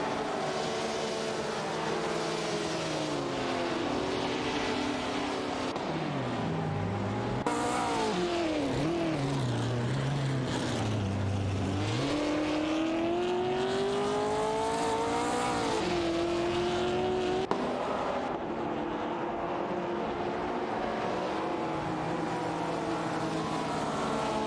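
Several race cars in an AI-driven racing video game roar around the track, engine pitch rising and falling as they shift and chase each other, loud and continuous with no talking.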